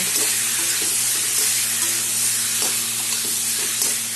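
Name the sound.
stirring raw mango chutney with turmeric in a sizzling pan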